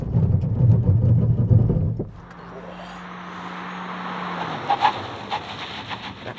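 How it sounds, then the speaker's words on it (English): A 2024 Hyundai Kona hybrid brakes hard from 100 km/h, a loud low road and engine roar that drops away abruptly, followed by quieter cabin noise and a brief tonal whine. "now it's time to do a stop from 100 k's an hour. See how good the brake and tyre package is."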